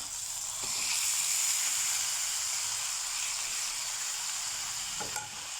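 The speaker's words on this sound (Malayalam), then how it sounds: "ഇനി നമുക്ക് ഇതിലേക്ക് അരിഞ്ഞ് വെച്ച തക്കാളി പച്ചമുളക് ഇത് ചേർത്ത് കൊടുക്കാം" Chopped tomato and green chilli tumble into okra frying in a pan, setting off a loud, steady sizzle with a few stirring knocks near the start and end, and no talking.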